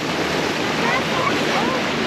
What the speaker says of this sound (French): Les grosses vagues.